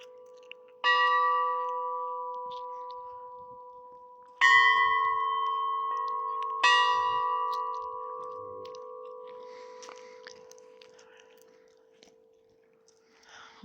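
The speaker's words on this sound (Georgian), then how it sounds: "შემოვკრათ ხალებმაც ზარი" A church bell at the Monastery of the Thirteen Assyrian Fathers in Svaneti is struck three times, close and loud. Each clang leaves a long, shimmering ring that fades slowly, and there is no talking.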